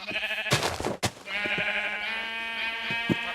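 Minecraft sheep bleat repeatedly in a wavering, nasal tone, several calls overlapping at close range with a few sharp clicks between them.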